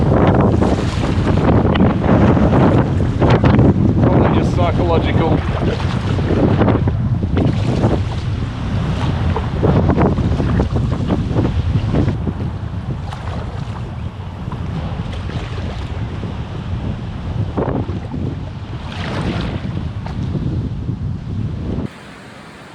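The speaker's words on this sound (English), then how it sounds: "This wind's incredible." Strong wind roars and buffets the microphone while packrafting near a shoreline, with water slapping and waves surging around the small boat, loud and continuous for the whole stretch; a single word is spoken briefly.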